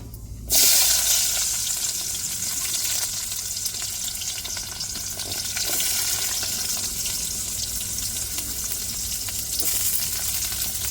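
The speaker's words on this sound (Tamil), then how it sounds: "இப்போ கடுகு சேர்த்துக்கிடுவோம் பொரியட்டும்" Mustard seeds spluttering in hot oil for a carrot and raw banana poriyal, a dense, loud, continuous hiss that bursts in abruptly and holds steady throughout, close up with no talking.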